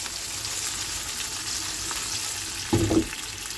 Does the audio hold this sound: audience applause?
no